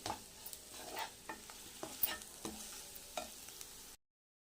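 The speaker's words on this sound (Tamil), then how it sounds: "ஸ்டவ் ஆஃப் பண்ணிட்டு நம்ம சாப்பாடை கிளறலாம்" Carrot tomato rice being stirred in a hot pan with a spoon, scraping strokes repeating every half second or so over a soft sizzle, close and alone without voices.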